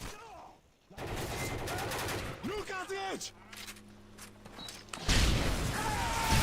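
Explosion and gunfire in Call of Duty Modern Warfare 3 on PS3: dense bursts of shots and blasts with mechanical clanks and a rising roar, loud and continuous, with a player talking over parts of it.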